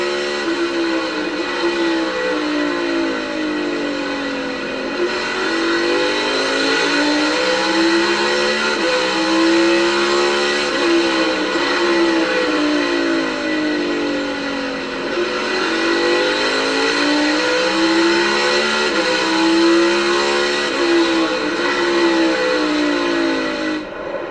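Onboard NASCAR Cup Series race car at Martinsville, its V8 engine droning loud and steady for the whole stretch, pitch repeatedly climbing and dipping as the car accelerates down straights and lifts for the tight turns.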